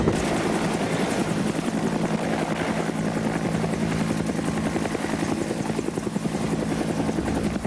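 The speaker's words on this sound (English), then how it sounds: "whether it be a normal helicopter move forward" A military helicopter flies nearby, its rotor giving a steady rapid chopping thump under a droning engine whine, loud and continuous throughout.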